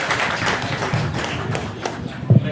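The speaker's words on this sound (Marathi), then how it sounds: "टाळ्या वाजवा सर्वांना" An audience claps hands at a village Khel Paithanicha event in Devhare, Ratnagiri, a loud close burst of scattered applause and taps throughout, with a few sharper thumps near the end.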